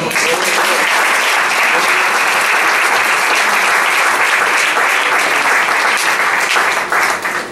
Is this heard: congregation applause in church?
yes